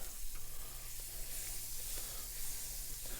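Butter sizzling on a hot griddle while elk is cooked, a steady close hiss with a faint low hum beneath and small crackles, no talking.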